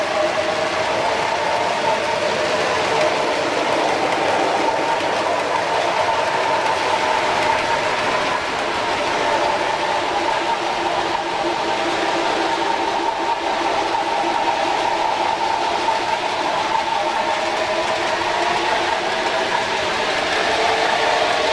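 A continuous diesel locomotive drone and rumble from a model railway train with a sound decoder and large bass speaker, fairly loud and unchanging, with faint mechanical rattling and no talking.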